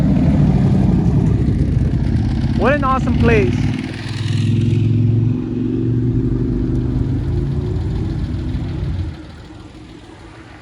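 Engines of Porsches, BMW M3s, a Cobra and motorcycles rumble steadily nearby on Mulholland Highway on a Sunday morning, with a brief rev, while a person speaks briefly over the noise.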